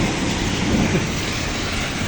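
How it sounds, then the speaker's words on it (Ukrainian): Heavy rain pours in a dense, steady roar, loud and unbroken throughout, with no voices. "Це ж такий дощ."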